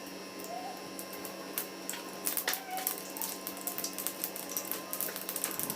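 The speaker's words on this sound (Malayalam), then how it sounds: "അതിലേക്ക് നമുക്ക് കടുക് ചേർത്ത് കൊടുക്കാം." Mustard seeds splutter in hot oil for a Kerala-style carrot stir fry, a quiet pan of sharp, irregular pops and crackles that grow denser toward the end.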